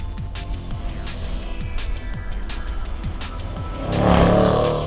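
A 2020 Jaguar F-Pace SVR engine pulls hard with a steady, loud drone and repeated gear-change dips, then swells louder near the end as it accelerates.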